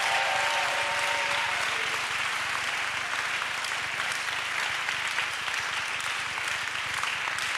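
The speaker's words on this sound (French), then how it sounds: "Clap for Jesus." Congregation in a church clapping for Jesus during a prayer service, sustained dense applause throughout with a faint murmur of crowd underneath.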